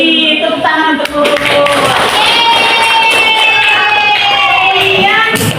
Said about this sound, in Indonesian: Tepuk tangan untuk guru.